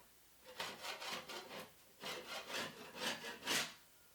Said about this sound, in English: it scrapes that excess caulking off